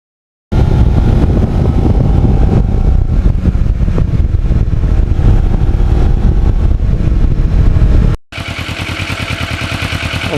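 A restored Kawasaki Ninja motorcycle on a windy ride along back roads gives a loud, steady roar heavily buffeted by wind. After a brief cut, a smoother, throbbing engine drone follows.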